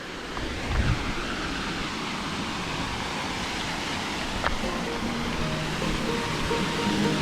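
A waterfall in the far north Queensland bush gives a steady, soft, broadband rush heard from a distance, with a faint click partway through and no voices.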